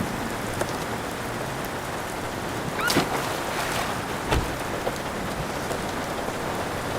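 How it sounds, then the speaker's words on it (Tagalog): Steady rain falls outdoors in the street, a dense continuous hiss with a few sharper drops and splashes rising briefly above it, with no voices. "Ay, Ulan, ma'am"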